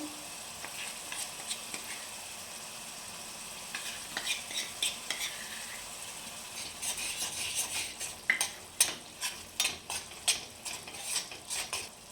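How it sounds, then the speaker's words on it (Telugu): Amaranth leaf paste fries in a pan with a soft sizzle while a spoon scrapes and stirs it in repeated, increasingly frequent clinks and scrapes, close and fairly quiet. "ఈ పేస్ట్ అంతా బాగా ఫ్రై కావాలండి"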